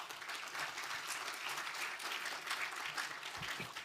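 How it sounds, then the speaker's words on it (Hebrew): An audience at a counter-terrorism summit applauds Professor Uriel Reichman, a steady, full round of clapping that carries evenly from start to finish. "מגיע לו כפיים לאיש היקר הזה"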